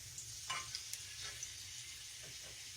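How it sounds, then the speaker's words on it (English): Onions and peppers sizzle quietly in a pan, a steady soft frying hiss with a few faint clicks and stirring sounds, no voices. "We've got our onions and our peppers kind of sort of sauteed just a little bit"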